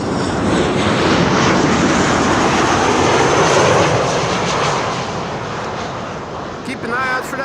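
A Thai Airways Airbus A350 jet arriving at Amsterdam Schiphol Airport, a loud broad engine roar holding steady and then easing off, with a voice talking faintly near the end.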